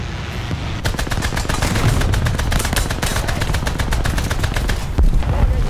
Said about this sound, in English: We might be able to machine gun him.